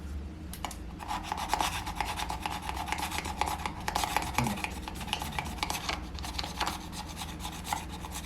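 Steady rasping scrape of a blade across the painted finish of an old Westfield Strat E1000 guitar body, continuous close strokes running throughout with no talk.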